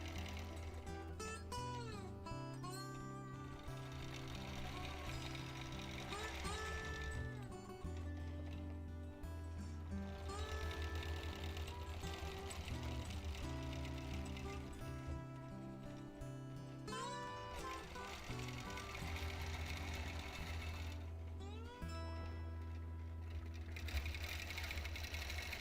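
A longarm quilting machine stitches free motion quilting in a steady, rapid mechanical hum with shifting pitch as the speed changes, close and continuous, with brief pauses and no talking.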